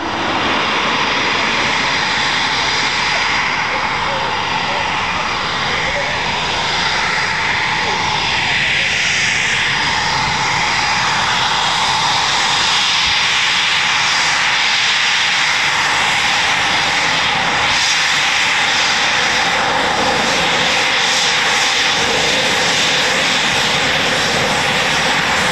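An RAF Eurofighter Typhoon jet manoeuvring low at 500 feet, a loud continuous engine roar that swells and fades over the whole stretch, with a voice talking over it.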